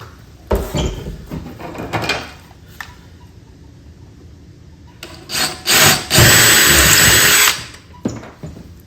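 A power drill whirs in short bursts, then bores steadily into wood for a couple of seconds before stopping, close and loud with quieter handling noises between.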